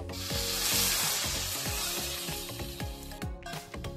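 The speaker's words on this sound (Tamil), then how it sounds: "இப்போ நம்ம அரைச்சி வச்சதெல்லாம் போட்டுட்டு நல்லா வதங்கணும்." Onions and ground spice paste sautéing in a pan for a mushroom dish, loud close sizzling with repeated rhythmic scraping strokes of a spoon across the pan.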